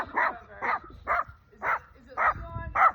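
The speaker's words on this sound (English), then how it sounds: "Look at the dog here." A dog barks about six times in an even rhythm, each bark short and fairly close, with quiet pauses between them and faint background noise.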